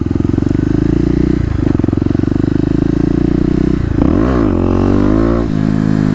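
A KLX250 dirt bike holds a steady, loud, buzzing engine drone while its front wheel floats up in a wheelie, then the revs climb and surge near the end. The engine sounds close and drowns out everything else.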